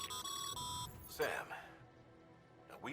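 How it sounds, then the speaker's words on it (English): Codec call ringtone from the video game Death Stranding, a repeating electronic beeping tone near and fairly loud, then a burst of voice partway through with further ringing at the end. "literally every 5 seconds you hear that ringtone, and it's freaking Deadman, or I'm sorry, Die Hardman"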